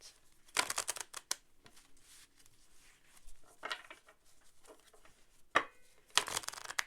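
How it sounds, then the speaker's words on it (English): Close, quiet card shuffling in several riffling bursts separated by short pauses, with soft flicks and taps of the deck between them. "Shuffle a little bit."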